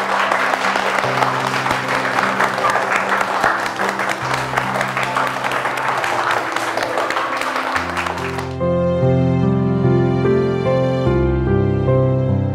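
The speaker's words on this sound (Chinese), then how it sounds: "大家给自己一个鼓励的掌声吧" A group claps together in sustained, dense applause, encouraging themselves before a hoped-for success, steady and fairly loud for about eight seconds before the clapping stops and music takes over.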